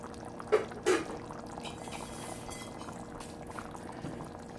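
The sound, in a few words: healthy chili with beans simmering in covered pot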